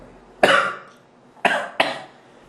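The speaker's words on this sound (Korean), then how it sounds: "이렇게 기침도 하고" A man coughs three times during a lecture: one loud, close cough, then after a pause two more in quick succession, each fading out with a breathy tail.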